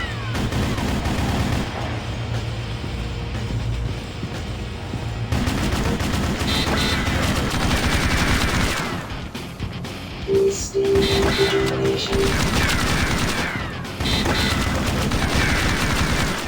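Sustained bursts of automatic gunfire from the video game Shadowgun, rapid continuous shooting loud and close with brief pauses and weapon effects, no voices.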